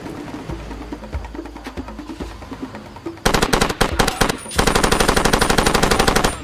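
Rapid machine gun bursts in the video game Far Cry 2 crack out in loud, dense rattling volleys, with a brief pause between two sustained strings of automatic fire after quieter scattered shots.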